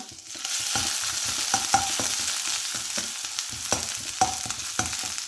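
Dried red chillies and crushed ginger fry in hot sesame oil, giving a steady close sizzle with scattered crackling pops and a few soft scraping stirs throughout, with no voices.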